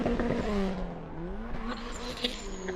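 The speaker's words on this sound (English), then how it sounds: "Revving up that Volkswagen engine." A drift car with a Volkswagen engine revs hard at a street drift event, its engine note rising and falling through sweeping pitch changes, loud and close, with faint crowd and tyre noise around it.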